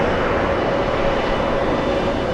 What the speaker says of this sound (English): We have JetBlue pushing from gate 1